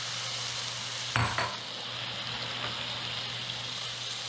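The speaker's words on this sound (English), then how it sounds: "Now we're going to add the diced tomatoes and all their juices." Diced tomatoes with their juices poured into a hot pan while cooking stuffed peppers, a sudden splash and burst of sizzle followed by a steady, hissing fry with a low hum behind it.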